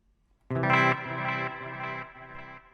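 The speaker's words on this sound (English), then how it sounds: "So you can hear that reverb and the delay in the background really bright." A bright, sustained guitar chord rings out with shimmering reverb and echoing delay trailing behind it, decaying slowly across the clip.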